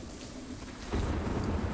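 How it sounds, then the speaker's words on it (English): Rain falls in the video game Sniper Ghost Warrior 3, a soft, steady broadband hiss that grows fuller with a low rumbling swell partway through, heard alone without speech. "We have a dynamic weather system, so now it's raining."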